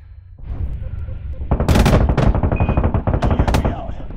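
Rapid bursts of sci-fi gunfire from the space shooter game Boundary, loud and close, with sharp repeated shots packed densely together after a quieter opening.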